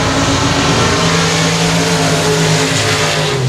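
Five race cars launch together at the start of an eight-lap heat at Sabine Speedway, engines roaring loud and dense in a continuous layered drone from near the track.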